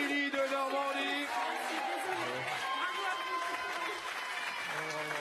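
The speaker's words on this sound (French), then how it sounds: "On applaudit Émilie de Normandie." A studio audience applauds a contestant on a French game show, a continuous spread of clapping with crowd noise and voices mixed in.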